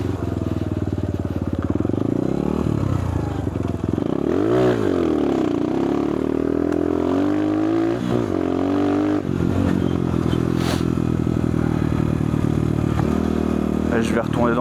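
A 2026 CRZ ERZ 150 dirt bike rides off-road through a field, its engine droning steadily and rising and falling in revs over bumps, loud and close, with a voice speaking over it.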